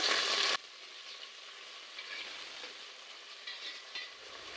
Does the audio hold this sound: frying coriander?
yes